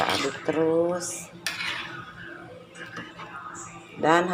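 A metal utensil scrapes and clinks in a pot of opor ayam, chicken simmering in thick coconut milk, in several short bursts with a soft bubbling bed, close up, while a person talks over it.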